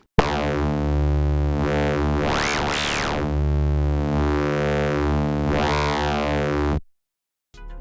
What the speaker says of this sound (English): use a free wavefolding plugin called M Wavefolder by Melder Productions. Automate the drive to add some movement to the sound.